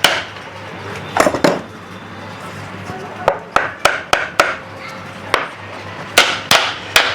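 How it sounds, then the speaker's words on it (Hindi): Light hammer taps fit a part onto a clutch motor during repair. Sharp, short knocks come in an uneven series, some in quick pairs, after an earlier scuffle of handling noise. "इस तरह से फिट कर लेना है, और हल्का हल्का आप चोट मार सकते हैं यहाँ"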